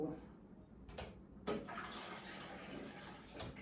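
Water rushes steadily into a small Temu mini washing machine, a continuous hissing flow broken by a few knocks and clunks, close by with someone talking over it.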